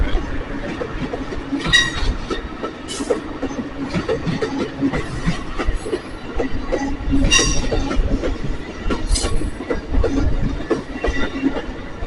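Amtrak's Empire Builder passenger train rolls through Whitefish, Montana on a snowy morning, its wheels clicking and rumbling steadily over the rails with occasional squeals, loud and close throughout.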